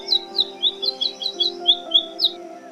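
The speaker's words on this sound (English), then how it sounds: "Oriental magpie robin." An oriental magpie robin sings a quick series of bright, clear whistled notes, about ten in a row, close and fairly loud over a faint steady background hum.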